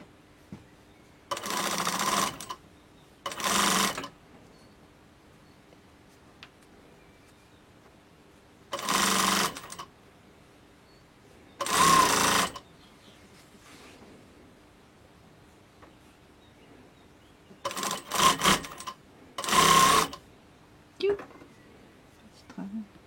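Sewing machine stitching a cushion cover seam in several separate bursts of steady whirring, each a second or so long, close and fairly loud, with quiet pauses between runs.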